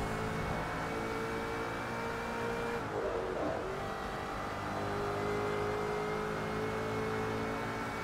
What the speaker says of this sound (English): Oh, that engine sounds good.